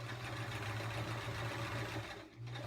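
Sewing machine stitching free-motion quilted feathers, a steady, fast mechanical whir with a brief pause near the end before it resumes.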